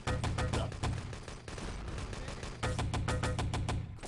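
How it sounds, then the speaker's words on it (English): Airstrike in the Enemy Territory game: dense rapid bursts of explosions and gunfire in rhythmic clusters, loud and continuous, with a short lull midway before the barrage resumes. "He put down an airstrike."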